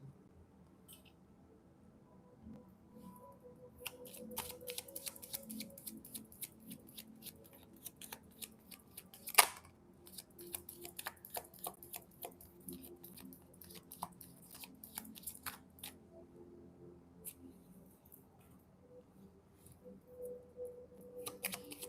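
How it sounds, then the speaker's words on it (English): Oracle cards being pulled and handled, with faint close crisp snaps, flicks and shuffling rustles coming in uneven bursts, including one sharp slap midway, against a quiet background. "I just couldn't focus on it because I'm trying to pull these cards"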